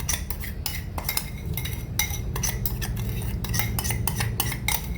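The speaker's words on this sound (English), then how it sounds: "So we stir it again." Jamaican rice and peas with kidney beans and a pinch of sugar gets stirred in a pot, a metal spoon clinking and scraping against the sides in quick bursts, close and fairly quiet.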